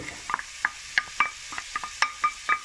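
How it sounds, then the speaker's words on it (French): Chicken curry ingredients sizzle in hot oil in a pan while a spoon stirs them, with repeated scraping strokes in a steady rhythm over a constant frying hiss, close and clear. "Donc ça va partir en fristouille."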